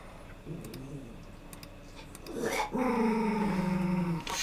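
Max, a dog, growls and grumbles at close range, in low rumbling bursts that build into a longer, louder snarl toward the end. Faint clicks sound underneath.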